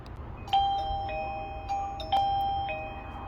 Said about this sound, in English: I have this guy that also chimes at the same time